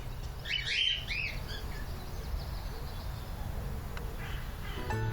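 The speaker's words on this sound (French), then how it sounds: "il fait maintenant de nouveau assez doux pour qu'on entende les oiseaux chanter" Birds singing outdoors on a mild late-winter day, a few bright chirps and short trills early on, then faint scattered calls over a steady low outdoor rumble.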